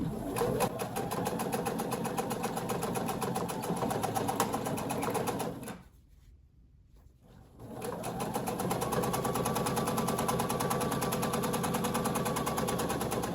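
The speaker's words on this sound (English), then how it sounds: "I'm just going to back tack right over that too." A sewing machine back-tacks over quilted scrap fabric for a tulip square glass case, running in a steady loud whir that stops briefly for about two seconds midway before resuming.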